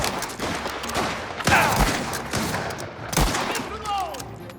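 Gunfire in Mafia: The Old Country, with several sharp close shots scattered between bursts of scuffling and clattering action noise and a few brief swishing sounds.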